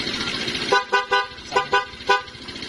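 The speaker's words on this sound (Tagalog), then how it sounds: "meron po siyang dalawang klaseng busina" Several short horn toots in quick pairs from a two-tone horn sound over a running engine, near and loud.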